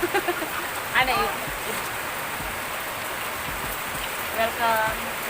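Heavy rain from a typhoon falls steadily as a broad wash of hiss and patter on surfaces, with a few brief voices and child-like calls rising over it near the start and end.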